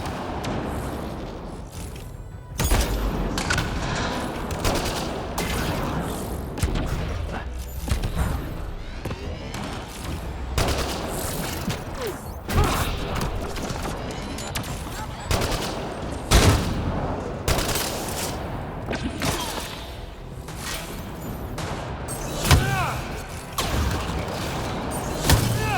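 Turret gunfire in the Mass Effect Andromeda video game, with loud rapid bursts and volleys of shots continuing throughout and heavy booms and thuds mixed in.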